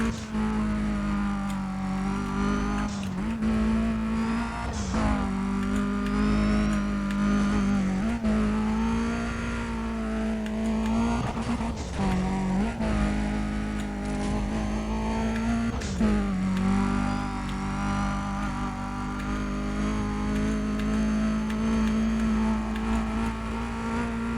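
Race cars in the video game Need for Speed: Undercover roar steadily at high revs throughout a lap, their engine drone loud and continuous with pitch rising and dipping through shifts.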